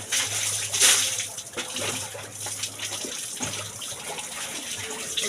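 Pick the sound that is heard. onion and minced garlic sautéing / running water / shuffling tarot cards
running water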